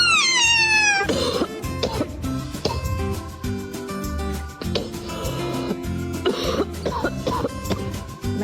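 Orange cat vocalising briefly at the start, a short meow-like cry over loud background music with sharp effects throughout.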